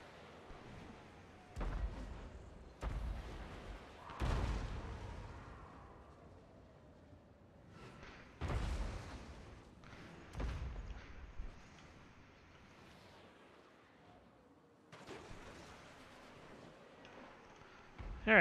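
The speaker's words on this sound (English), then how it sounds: "So I'm going to get at least some work done with these artillery pieces." Artillery pieces firing in the strategy game Total War Warhammer II, about half a dozen heavy booms spaced a few seconds apart, each with a rumbling tail, over a quiet background.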